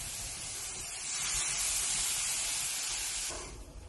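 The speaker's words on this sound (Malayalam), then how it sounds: "എനിക്ക് കഞ്ഞിവെള്ളം ഒഴിക്കുകയാണ്" Rice water (kanji) poured into a hot pan during tempering gives a loud, steady broadband hiss that swells midway and drops off abruptly near the end, with no one talking.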